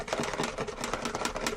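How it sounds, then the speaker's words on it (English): Homemade gesso being whisked in a bowl while powder is sprinkled in, batter-like, heard as a quick, steady run of close ticking and tapping strokes. "Whisk it in, sprinkle it in."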